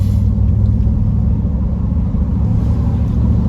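A classic car engine idles loudly and continuously nearby, a deep, even, low rumble with no revving or voices.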